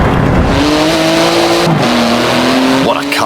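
Twin-turbo 3.8-litre flat-six car with 700 horsepower and carbon-fibre body driving in Forza Horizon 4, a loud continuous engine drone with a gear shift midway and a brief tire squeal at the end.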